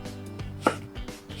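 Knife cuts through food on a chopping board while slicing and dicing, a few close, crisp taps spaced unevenly over a low background hum, the last one loudest.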